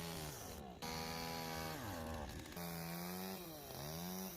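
A chainsaw cuts up a dead tree for firewood, its engine droning loud and close, pitch dipping and rising as the bar bites into the wood and the throttle surges.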